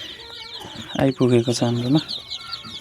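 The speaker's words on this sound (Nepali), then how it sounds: "यो चाहिँ हाम्रो सोनाली कुखुराको चल्ला" Day-old Sonali chicken chicks peep in thin, high, continuous cheeps while someone talks over them at close range.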